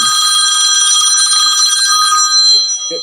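A telephone rings loudly and steadily through the whole stretch with a bright, continuous electronic trill, and a faint voice is heard briefly near the end.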